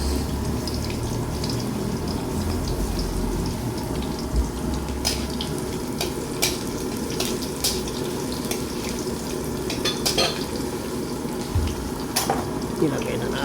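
Garlic frying in a hot pan gives a steady, even sizzle with scattered crackles and pops, moderately loud and continuous throughout, while someone talks over it now and then.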